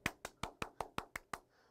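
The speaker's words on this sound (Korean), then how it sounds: "박수 한번 줘." Eight sharp, evenly spaced claps ring out in a steady rhythm during an online class presentation, then stop, leaving quiet.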